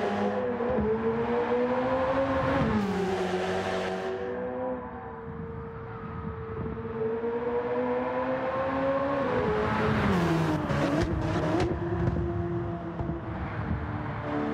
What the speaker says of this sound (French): Vous avez vu quand je rétrograde, le bruit que ça fait, c'est excellent.